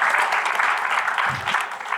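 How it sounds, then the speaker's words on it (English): A live audience claps for itself at a talk, steady dense applause filling the room throughout, with a brief low thump partway through. "give yourselves a round of applause"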